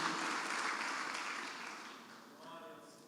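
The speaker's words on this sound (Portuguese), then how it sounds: "Diga amém e aplauda o Senhor mais uma vez." A church congregation applauding during a worship service in a large, reverberant room, the clapping gradually thinning and fading toward the end.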